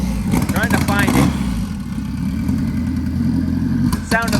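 An engine fitted with dual fuel injectors in one hole idles with a steady, rough rumble, then briefly revs at the start and again near the end, with voices talking over it.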